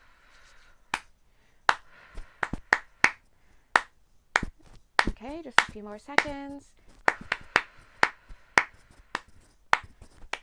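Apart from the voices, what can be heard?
hand claps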